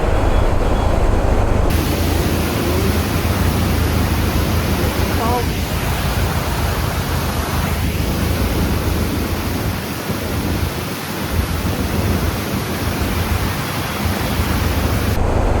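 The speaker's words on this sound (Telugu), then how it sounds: "సో ఇది డ్యామ్ కింద గేట్స్ ఓపెన్ ఉన్నాయి," Water roars through the open gates below a dam near Vasundhara waterfall in heavy rain, a loud, constant broadband rush that fills the scene from start to end without a break.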